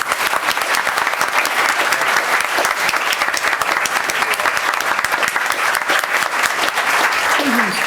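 A crowd at a school district board of trustees meeting applauds parents with loud, continuous clapping that stays steady and close for about eight seconds.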